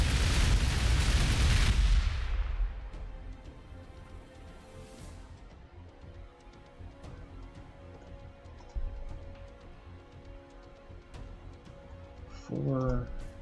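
Hydra anti-aircraft units open fire in the strategy game Warhammer 40,000: Gladius, a heavy burst of booming gunfire at the start fading into a low rumbling battle ambience with scattered clicks.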